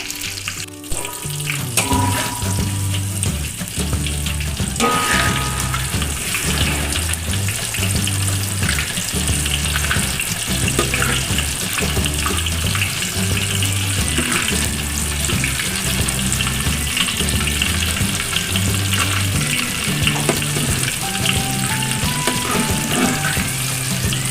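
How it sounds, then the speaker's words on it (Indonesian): Tofu fries steadily in hot oil in a pan, a loud, dense, continuous sizzle and crackle heard up close, with faint clinks now and then and no talking. "Lanjut kita goreng tahunya sampai berkulit ya Bunda."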